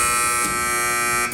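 A quiz match buzzer gives a steady, sustained electronic buzz that holds for over a second, loud and alone with no talking over it.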